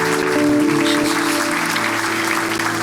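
Church congregation clapping in a steady, full burst, with a held musical tone ringing faintly underneath the applause.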